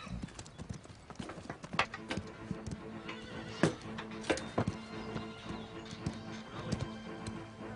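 A horse clip-clops with steady hoofbeats on hard ground, punctuated by a neigh and scattered sharp knocks, fairly close but quiet, with a few faint background sounds.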